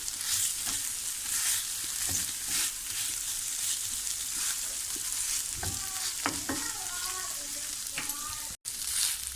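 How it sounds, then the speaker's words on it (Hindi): Liver (kaleji) roasting on a tawa gives a steady loud sizzle throughout, broken by scraping stirs and clinks of a spatula against the pan, with no voices. "भुनाई करते हैं इसकी खूब अच्छी तरह से।"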